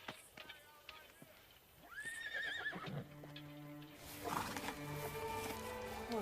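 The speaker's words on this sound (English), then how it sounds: "Horse." A horse whinnies with a rising, wavering call, followed by more horse sounds and busy background noise, with some voices around it.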